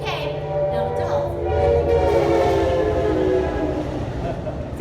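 A passing train sounds its horn over a rumbling roll of the cars, loud and close, with the horn's tone sliding as it goes by.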